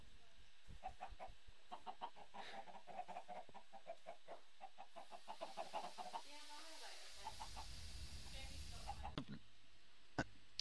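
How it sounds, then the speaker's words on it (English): Many chickens clucking in the Minecraft modpack Tekkit, a busy run of short repeated clucks at moderate level, with a brief rising squawk partway through. "A lot of chickens."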